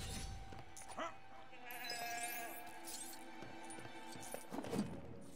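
In LEGO The Hobbit, a goat bleats a few times amid busy game sound effects with clinks and small crashes, fairly faint in the mix.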